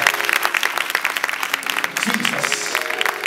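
A congregation claps hands together at a Sunday church service, producing a dense, steady patter of applause throughout, with a voice speaking faintly underneath.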